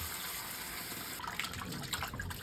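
Tap water running over raw turkey neck in a bowl with vinegar added for cleaning, a steady gushing splash that grows louder and more agitated partway through.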